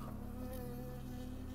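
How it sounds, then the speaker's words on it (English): A bee buzzes continuously with a steady, droning hum in the video game Firewatch, close and fairly quiet, with no speech. "That bee just stung me."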